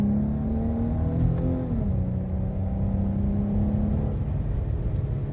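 A Dodge Challenger SXT V6 accelerates in paddle shift mode, its engine note climbing steadily, dipping at a shift around the two-second mark, then pulling on as a loud, continuous drone.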